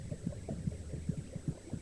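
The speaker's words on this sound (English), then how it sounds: "She will also hear the competing thuds of heartbeats, her own racing at twice the speed of her mother's" Muffled heartbeats as heard from inside the womb, a fetus's rapid pulse mixed with the mother's slower one, rhythmic low thuds repeating steadily under a faint hum, with no talking.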